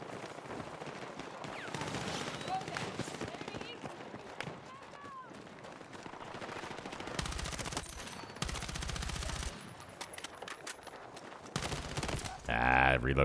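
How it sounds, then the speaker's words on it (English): Gunfire in Battlefield 6, including shotgun blasts from an enemy camping a corner, comes in loud bursts and repeated shots over a busy battlefield din with running footsteps, and a voice speaks at points. "corner camper with a shotgun."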